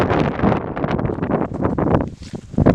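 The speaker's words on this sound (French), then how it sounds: "Il y a beaucoup de vent, donc je sais pas si vous m'entendez." Strong wind at a high mountain fort buffets the microphone in heavy, rumbling gusts, loud and rough throughout with no clear voices.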